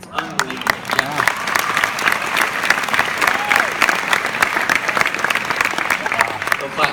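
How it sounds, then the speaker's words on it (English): Loud, sustained audience applause in a church, dense clapping with crowd noise and voices mixed in, running steadily throughout. "Clap for you."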